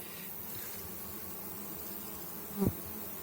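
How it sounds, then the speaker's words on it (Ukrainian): A honeybee buzzes steadily close by, a continuous droning hum with a brief louder bump near the end. "Отак от бджола працює"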